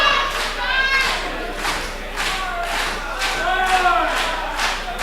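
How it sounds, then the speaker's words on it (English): A wrestling crowd at a pro wrestling match roars and chants in loud, repeated swells of cheering and shouting, with thuds and scattered clapping mixed in throughout. "Crowd here, Wilewski's really getting behind this matchup."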